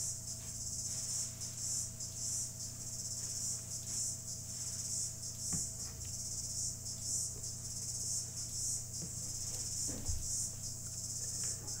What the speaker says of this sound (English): You can hear those cicadas just going for it.